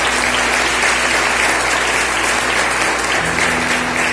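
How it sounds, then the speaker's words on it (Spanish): Loud, continuous applause fills a church service as the congregation claps for the Lord, dense and even throughout, with a low steady hum beneath. "le daré un fuerte aplauso al Señor"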